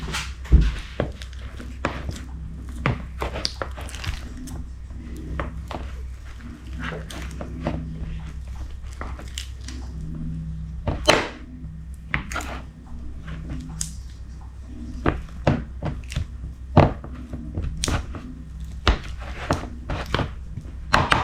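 Blocks of butter and icing margarine are broken into smaller pieces by hand, giving repeated soft squishes and thunks at an irregular pace, close up over a low steady hum.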